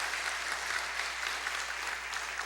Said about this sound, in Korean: 사모님 그 자리에서 잠깐 일어서 주시면 우리 박수로 환영하시겠습니다.